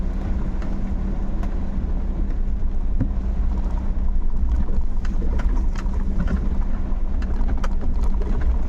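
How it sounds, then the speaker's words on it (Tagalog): Heavy rain pours steadily in a dense, continuous roar, with scattered sharper drops and taps on surfaces nearby; no voices. "Grabe ulan ano."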